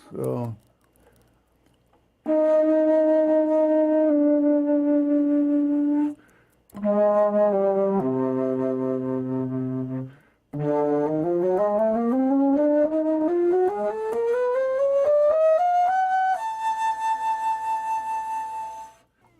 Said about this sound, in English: And the bass flute usually sounds,